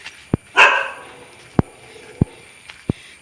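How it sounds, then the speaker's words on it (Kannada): A dog outdoors in a grassy area during rain gives several short, sharp barks spaced irregularly, with one longer, louder yelping bark near the start, set against a quiet background. "ನಾಯಿ"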